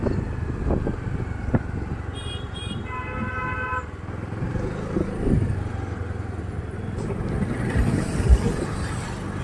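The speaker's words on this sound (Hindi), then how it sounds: "ये देखिए स्कूल वैन जा रही है।" School van driving past on a quiet morning road, a passing engine rumble with short horn toots amid outdoor street noise.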